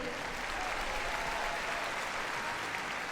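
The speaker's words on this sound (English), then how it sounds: "give her a big round of applause, welcoming her in" Crowd applause in a large arena welcoming a handler and her working sheepdog to a heelwork-to-music freestyle competition at Crufts, a steady, distant-sounding roar of many hands clapping without pause.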